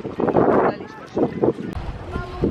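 Gusty wind buffeting the microphone in rough bursts by the sea at a beach resort in Hurghada, with a voice speaking over it.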